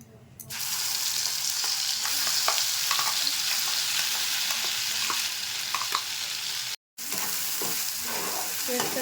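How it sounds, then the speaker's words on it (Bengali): Green pea paste hits hot ghee for a kachuri filling and starts a sudden, steady sizzle with stirring scrapes, broken by a brief cut of silence before the frying resumes; no speech. "এখন আমি এই পেস্টটাকে দিয়ে দিচ্ছি"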